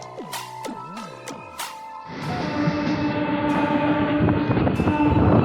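A Katwa local train running at night: a few sharp tones at first, then a loud, steady rumble of the moving carriages fills the rest, close and echoing with a faint high whine.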